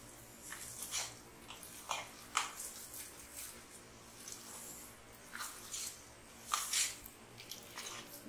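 Curd and semolina pakora batter being beaten by hand in a bowl, repeated wet squelching slaps in irregular bursts, close and quiet.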